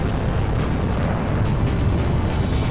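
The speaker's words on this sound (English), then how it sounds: "An AA gun is trying to shoot us down." Anti-aircraft guns and bursting flak in the video game Ace Combat 6: Fires of Liberation make a dense, continuous rumble of explosions that stays loud and heavy throughout, with no clear gaps between blasts.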